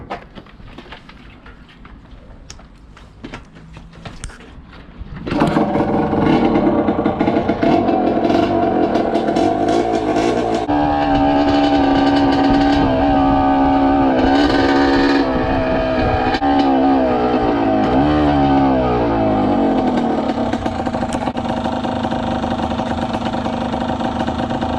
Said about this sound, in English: We're out on the motorbike today.